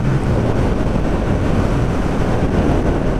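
Wind blasts against a rider on a CF Moto 650NK naked motorcycle cruising at about 70 mph in sixth gear, a loud continuous roar of buffeting air that drowns out most engine detail.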